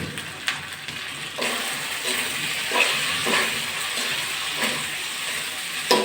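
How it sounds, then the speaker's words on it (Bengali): Potatoes fry with spices in a pan, giving a steady close sizzle and hiss with a few soft stirring scrapes and small pops throughout. "মশলার সঙ্গে ভালো করে কষিয়ে নিয়েছি আলু।"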